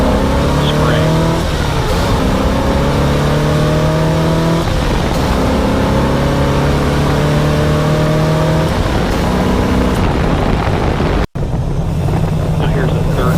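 A car with a Holley 4160 vacuum-secondary carburetor accelerates hard in fourth gear, engine note rising steadily in pitch through repeated pulls, loud and close, with a brief cut near the end and someone speaking over it.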